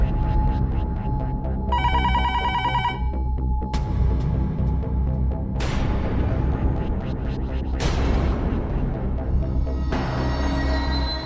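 A telephone rings repeatedly and goes unanswered, electronic ring bursts recurring at intervals over a dense, steady background of music and noise, loud throughout.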